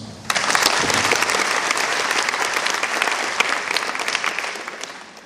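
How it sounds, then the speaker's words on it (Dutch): Audience applause in a studio setting, a sudden burst of many hands clapping that stays full and lively for several seconds, then gradually tapers off. "APPLAUS"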